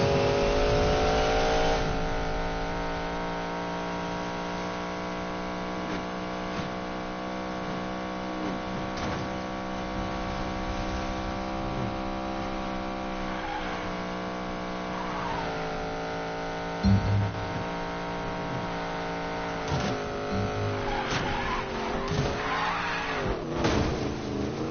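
A race car in a video game drives at about 200, its engine holding a steady high droning whine for a long stretch, with brief tire squeals and shifts in pitch near the end, fairly faint and without talk.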